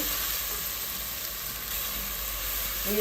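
Crushed ginger, garlic and green chilli fry in hot oil with curry leaves for a Kerala-style fish head curry. A steady, loud, close sizzling hiss runs throughout, with no talking.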